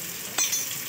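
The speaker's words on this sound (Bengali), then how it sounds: "দিয়ে এটা ভালো করে আমি কষিয়ে নেব" Cumin and coriander powder sizzle in hot oil in a pan while ghugni is being made, a steady close hiss with a brief scrape of stirring partway through.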